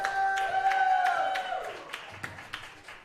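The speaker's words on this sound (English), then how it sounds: "give yourselves a round of applause" Wrestling-show audience applauding in short bursts of claps as a sustained musical tone fades, the clapping thinning out toward the end.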